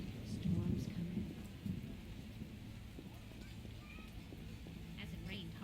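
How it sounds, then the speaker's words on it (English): Thunderstorm in the video game The Witcher: steady rain with low rumbling thunder, a couple of louder swells near the start, then a continuous dull downpour. "Storm's coming."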